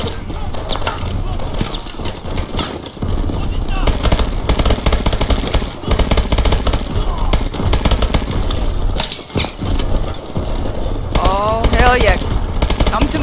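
Machine gun fire in Call of Duty Advanced Warfare: dense, loud automatic fire running continuously amid battle noise and rumbling, with voices talking over it.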